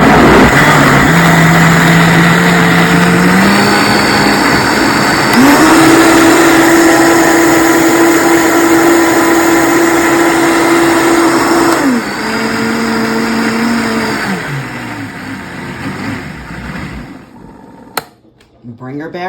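A Vitamix blender purees whole unpeeled tomatoes, a loud close motor whine that steps up in pitch, holds a high steady roar, then winds back down and cuts off, ending with a brief clunk.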